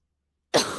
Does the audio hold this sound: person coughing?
yes